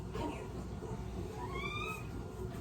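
A cat gives a faint, rising meow partway through, set against a constant low background hum in a quiet room.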